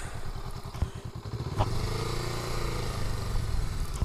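A Honda Rebel 500 motorcycle engine cranking and catching, with clattering starter pulses giving way to a steady, close mid-pitched idle.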